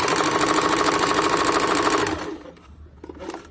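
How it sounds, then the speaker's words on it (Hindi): A sewing machine runs steadily, stitching a choli blouse with double stitching, for about two seconds before stopping, followed by quieter handling noises. "उसी को हम लोग सबसे पहले सिलाई कर लेंगे चोली में"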